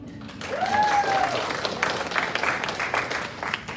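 An audience at a company associate update meeting breaks into applause, a fairly brief burst of clapping in a room, with a voice briefly audible over it.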